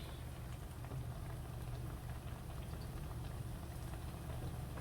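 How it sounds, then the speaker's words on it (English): Steady, quiet sizzling and bubbling of sweet plantains frying in hot oil, a continuous soft crackle with no voices. "I want to fall asleep to the sound of frying plantains"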